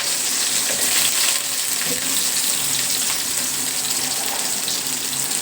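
Green chillies and onion frying in a pan on a home stove, a steady close hiss and sizzle with faint stirring clinks, no talk.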